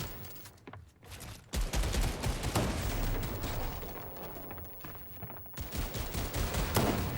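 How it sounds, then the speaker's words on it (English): Rapid gunfire and beam shots in a competitive shooter match, dense bursts of shots running throughout at moderate level, with no speech. "Shots coming in, a massive beam for him"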